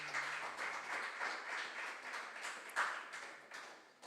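Quiet, distant audience clapping for contestants at a junior science and maths quiz, a soft continuous patter of hands with a few louder claps.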